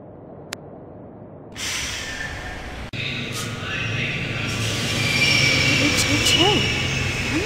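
Train passing in the video game The Longest Journey: a rumbling rail rush swells in after a brief quiet start and builds steadily, with a thin wheel squeal rising near the end.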